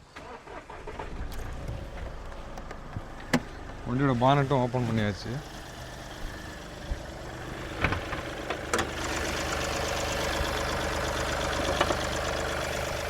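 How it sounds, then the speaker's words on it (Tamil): A car engine with a sealed engine block cranks and settles into a steady idle close by, while someone talks over it. "இப்போ இந்த வண்டியோட இன்ஜின் நான் ஸ்டார்ட் பண்ணிடுறேன்."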